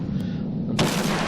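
Battleship main guns firing in the World of Warships naval game, with a sudden loud, broad blast that cuts in partway through over a steady low game rumble.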